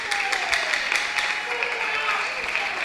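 A church congregation applauds with steady, fairly faint clapping, while voices carry over it throughout.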